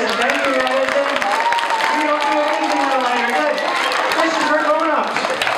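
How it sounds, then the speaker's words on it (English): Applause from a school audience for a student at a science presentation, dense steady clapping mixed with cheering voices filling the whole stretch. "Giant round of applause for Madison"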